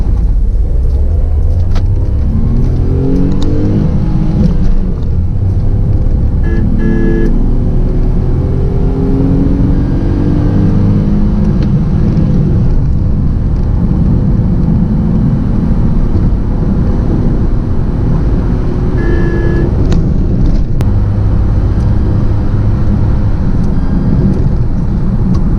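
A 2020 Tata Tiago's engine runs loud and close throughout, a steady dense drone with rising tones as it is revved, heavy wind buffeting over the top, and no one speaking.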